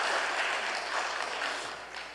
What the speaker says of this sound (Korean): 김진홍 목사님 박수로 우리 격려하십시다